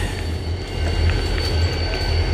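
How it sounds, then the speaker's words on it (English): A train rumbles steadily past close by at the Allentown terminal, low heavy rolling with a faint metallic whine of wheels on rails throughout. "you'll hear the trains on your left-hand side"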